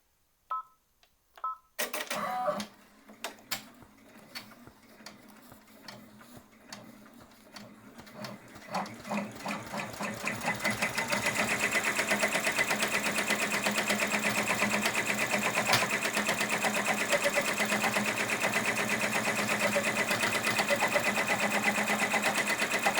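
Embroidery machine stitching a placement line for an appliqué design: a few short beeps and starts, then a rapid, steady mechanical needle chatter that grows louder and runs continuously at close range.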